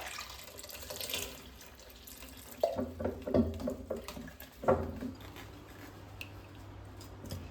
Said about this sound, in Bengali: এখন আমি ধুয়ে নেব আমগুলোকে পরিষ্কার করে